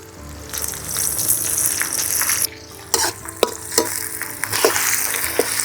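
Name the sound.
onions frying in a pan for Telangana chicken curry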